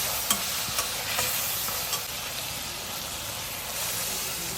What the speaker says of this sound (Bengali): এখন আমি এটা শাকটা ভাজি করব।